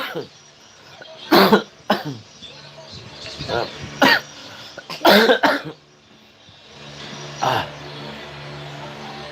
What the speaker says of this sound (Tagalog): Ang sakit na sa lalamunan yung yung ubo ko.